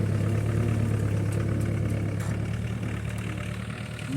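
A heavy four-cylinder diesel engine on a homemade tractor drones steadily and loudly while hauling a log, holding a deep low rumble that strains slightly and fades a bit toward the end.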